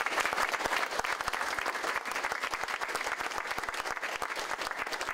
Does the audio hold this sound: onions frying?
no